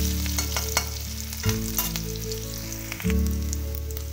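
Chopped onion fries in oil and is stirred in the pan: a loud, close sizzle broken by scraping stirring strokes and a few clinks, with a sudden shift as the food is moved around, no talking.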